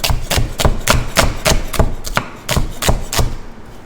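Onions are sliced into wedges for a stir fry with a blunt knife, about a dozen sharp, evenly paced chops on a board, loud and close.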